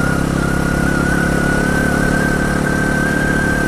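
Engine of a 2024 Bajaj Pulsar NS400Z motorcycle pulling in fifth gear, a loud, steady droning hum with a sustained whine, continuous throughout with no talk.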